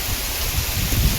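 Rain falls steadily under trees during paddy-field work, a dense close patter and hiss with low rumbling gusts, brief and even.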